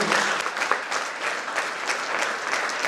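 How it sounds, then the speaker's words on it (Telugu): A college audience applauds at a Voters' Day event in a Telangana tribal welfare residential college, with loud, continuous, close clapping from many hands throughout. "చప్పట్లు చాలా మంచిదే"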